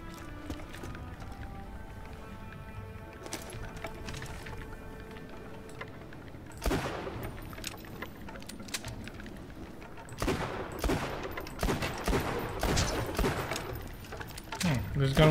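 Gunfire in Tiny Tina's Wonderlands, with scattered shots early, then a sharp volley and dense rapid bursts toward the end, loud and close, mixed with game effects and talk.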